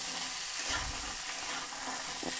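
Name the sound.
soaked chickpeas and pumpkin frying, being stirred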